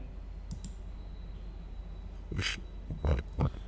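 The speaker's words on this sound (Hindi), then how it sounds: "कॉल के ऊपर हम लोग क्लिक करेंगे।" A computer mouse gives a few soft, close clicks against a steady background hum, closely spaced near the end.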